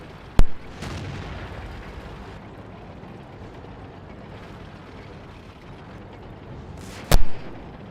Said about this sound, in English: Our artillery seem to be focusing on the north flank now after spending a long time on the south.